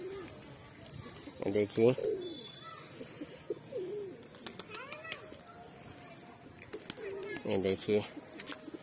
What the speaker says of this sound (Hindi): तो गाइस देखिए सारे कबूतर आ चुके हैं